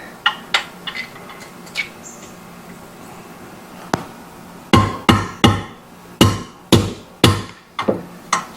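A hammer taps a stuck exhaust bolt on a Yamaha XL800 WaveRunner, with a few scattered metallic knocks followed by a quicker series of about ten sharp, close, ringing strikes.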